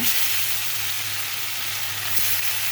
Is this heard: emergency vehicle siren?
no